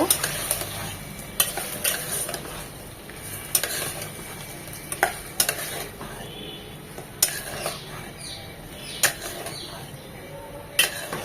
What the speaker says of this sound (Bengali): এখন এই সব কিছু নেড়ে চেড়ে মিশিয়ে নেব।